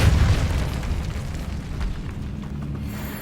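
The Incendio fire spell goes off in Hogwarts Legacy with a loud, deep whoomp of flame that rolls and crackles, then slowly fades into a lower, rumbling burn.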